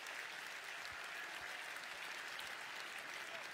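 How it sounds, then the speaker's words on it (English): A basketball arena crowd at a FIBA World Cup qualifier between Finland and Iceland applauds as an injured star player gets back up, giving a steady, fairly soft wash of clapping from a distance for a few seconds. "healthy round of applause once he stands up"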